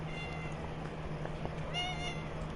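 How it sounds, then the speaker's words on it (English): A house cat meows softly, one short call near the end over a steady background hum. "then my cat Gypsy's just being a punk now"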